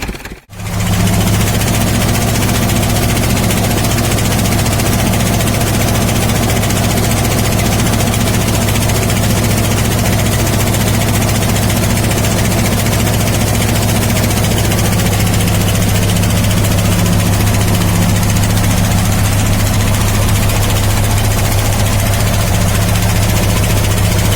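Steady, loud low-pitched chugging of an Ursus C-330 tractor engine running in freezing weather at -8 °C, starting from near silence and then droning continuously and up close as the tractor drives off, with no talking.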